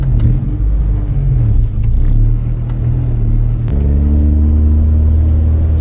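An Acura Integra with a B20 engine pulls away on a test drive, its engine note climbing through first gear at light throttle and then dropping and rising again after a shift into second, loud and close.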